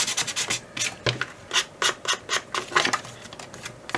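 A hand file rasps against a craft piece in a series of quick, close scraping strokes in an uneven rhythm, some sharper and louder than others, with no talking.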